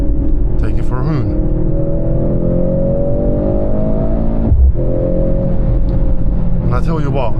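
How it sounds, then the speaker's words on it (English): A Mercedes-AMG C 63 S E-Performance with a four-cylinder engine pulls hard in race mode, its loud engine note climbing steadily, briefly dropping for a gear change, then rising again up close. "if I switch this dial to the right, now I'm in race mode. And in race mode, the car unleashed itself"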